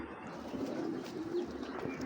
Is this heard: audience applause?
no